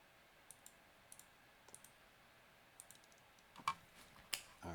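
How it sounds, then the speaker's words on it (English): A computer mouse clicks while Git is being installed on a Windows computer: sparse, faint, sharp clicks in a quiet room, with a couple of louder clicks near the end. "I'm going to go ahead and click on this once, then click on this here."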